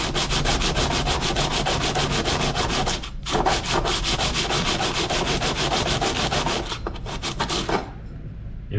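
Abrasive rubbing to clean burrs off a metal edge on a 1957 oval window Volkswagen Beetle body part, a continuous close, loud scraping with rapid repeated strokes and a brief pause near the middle.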